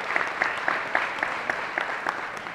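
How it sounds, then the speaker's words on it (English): An audience applauds a school band director, clapping steadily and moderately loud with distinct individual claps in a quick, continuous patter. "So I just want to give a round of applause to Mrs. Ace, one of our band directors here."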